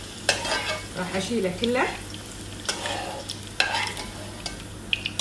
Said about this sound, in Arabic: شوف البصل شلون تكرمل